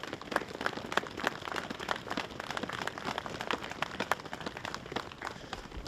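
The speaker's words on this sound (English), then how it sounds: "Please join me in giving them a well-deserved round of applause." Scattered clapping from a small crowd at an outdoor Wreaths Across America ceremony, fairly quiet and sparse, with individual claps standing out against open-air background noise.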